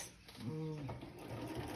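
An old sewing machine, about 30 years old, runs with a low mechanical whir and rising hum under quiet background noise, and a voice can be heard speaking.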